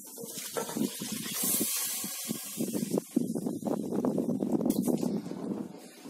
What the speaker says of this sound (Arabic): يلا هنضيف بقى عليه كده الميه